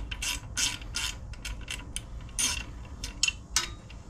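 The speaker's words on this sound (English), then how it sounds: "Using a ratcheting wrench," A ratcheting wrench loosening the floorboard bolts on a Harley-Davidson Heritage Softail: close, crisp bursts of rapid ratchet clicking repeated about a dozen times in irregular strokes, with no voice over them.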